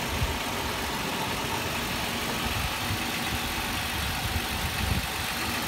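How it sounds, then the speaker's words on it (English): A 2006 Toyota 4Runner SR5 4x4 engine runs steadily with the hood open, giving a loud, even idle hum with some belt and accessory whine, close up and without talk. "My phone does pick up small engine or belt train noise, so it'll be louder on my phone than it would be in person."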